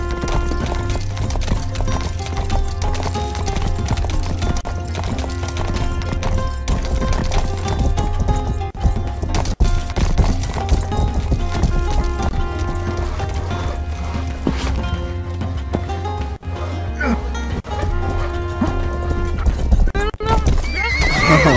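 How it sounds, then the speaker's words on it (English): Horse hooves clip-clop at a gallop with repeated neighs and whinnies in the Rustler (Grand Theft Horse) medieval video game, loud and continuous over game music and effects, with someone talking over it at times. "Get on the freaking horse!"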